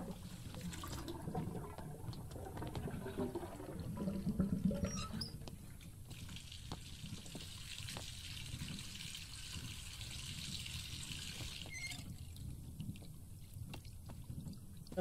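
Hot water runs from a tap in the video game Botany Manor, a steady broadband rush of flowing water that stays even throughout, with a brief splashier burst near the start.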